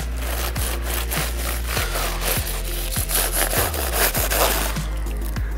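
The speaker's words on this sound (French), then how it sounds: "on va venir découper et faire la petite incision pour découvrir ce qui se passe à l'intérieur" A knife cuts into grilled tacos on a wooden board, giving steady rhythmic scraping and sawing strokes, close up and fairly loud, with repeated sharp contacts against the board and no talking.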